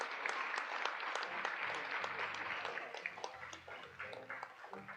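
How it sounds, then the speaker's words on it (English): Audience applause at a high school graduation and award ceremony: a sustained, dense wash of many hands clapping, steady throughout and fairly distant, with no voices rising above it. "give them a round of applause"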